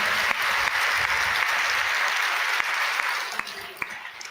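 A church congregation claps together in steady, dense applause that fills the space, tapering off toward the end with a few scattered louder claps.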